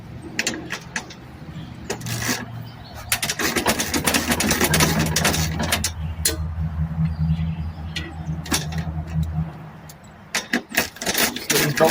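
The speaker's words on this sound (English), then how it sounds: "extension and a ratchet to take these off" A ratchet on an extension working the seat bolts of a John Deere lawn tractor, with clusters of quick clicking ratchet strokes at close range over a low steady hum and occasional clunks.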